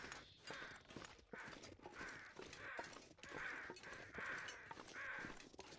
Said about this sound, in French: Il y a des corbeaux là-bas aussi.